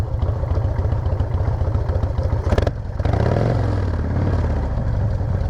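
A loud, close Harley-Davidson motorcycle engine idles with a steady lumpy throb, a brief clattery burst in the middle, then a smooth idle again.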